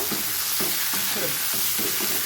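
Raw corn sizzles and fries in hot oil, with a steady crackle and repeated stirring scrapes every half second or so, close up.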